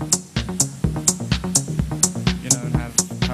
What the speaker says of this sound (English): Just start to add the prototypical techno stuff into it